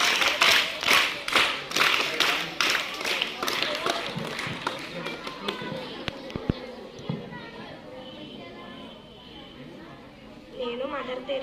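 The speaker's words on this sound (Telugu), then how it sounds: "ఒకసారి క్లాప్స్ ఇవ్వండి" An audience at a school cultural programme claps in a burst of rhythmic, fairly close hand claps that thin out into scattered claps, with chatter and a voice underneath.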